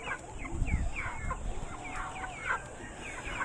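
Pet geese and ducks squabble nearby in a quick, overlapping flurry of nasal honks, squawks and clucking calls, fairly quiet against a steady background hiss.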